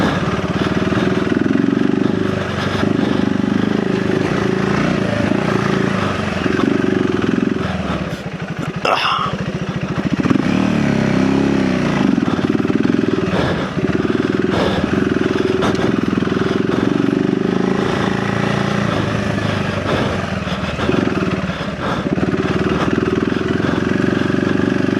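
A 2025 KTM 390 Enduro R single-cylinder engine lugging at low revs in second gear on an off-road hill climb, a steady loud thrum with brief dips and surges, close up and continuous.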